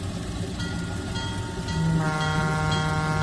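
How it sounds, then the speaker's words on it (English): A train starts moving in the Trainz 2019 railway simulator game, a steady mechanical rumble with engine drone that steps up in loudness as it pulls away, no talking. "So let's go back to Graham here. We're going to get Graham moving."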